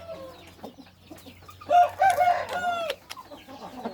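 A rooster crows loudly nearby, mixed with scattered clucks and soft farmyard chatter before and after.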